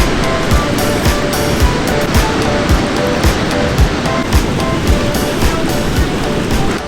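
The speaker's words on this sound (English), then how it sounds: "We must be getting closer to the falls because we can hear them roaring even more." A large waterfall along a hiking path beside the Alaska Highway roars in a loud, steady broadband rush, with faint periodic thumps running through the constant wash of falling water.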